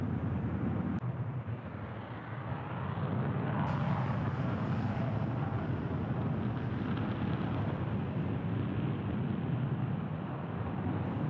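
Hawaii Air National Guard F-22 fighter jets take off in the distance, a sustained, broad jet roar that swells slightly and holds steady, heard from afar without speech.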